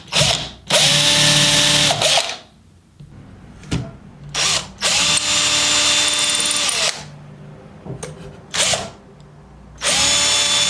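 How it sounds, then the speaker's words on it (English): A power drill spins in reverse, anti-clockwise, while marking hole positions: several loud, steady whirring bursts of a few seconds each, split by short pauses, close to the mic with no talking. "set my drill going backwards or anti-clockwise first"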